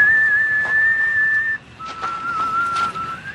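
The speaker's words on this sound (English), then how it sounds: "Did I get the whistle right?" A person whistles a tune in a Walking Dead parody, two long sustained melodic phrases, loud and close with a short break between them.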